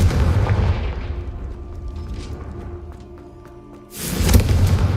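A Confringo fire spell blasts in Hogwarts Legacy, a loud booming burst at the start that decays, then a second heavy blast near the end, with no talk.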